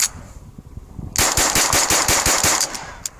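A .22 rifle fires CCI Velocitor rounds in a quick string of about ten sharp cracks, evenly paced and close, after a few quieter clicks and handling sounds, ending with one last isolated shot.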